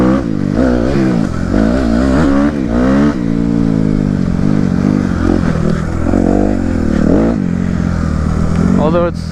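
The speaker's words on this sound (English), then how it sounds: "He wants me to see him hit the tabletop on his four-wheeler." A four-wheeler ATV roars loudly and close on a dirt track in the woods, its engine repeatedly revving up and dropping back in pitch without a break as it rides toward a tabletop jump.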